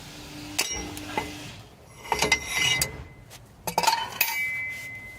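A breaker bar cracking loose the inner tie rod on a 2003-2006 Lincoln Navigator gives sharp metallic clinks and scraping ratchety clicks in several close bursts, with no talk.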